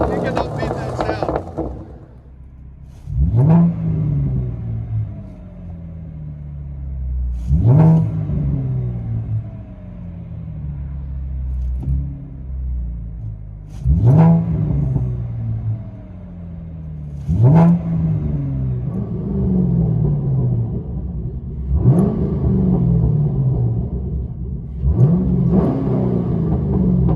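A 2014 Chevy Camaro 3.6L V6 with true dual straight pipes revs hard about six times at a steady rhythm, each rev climbing to a loud raspy roar and falling back to a rumbling idle, close by.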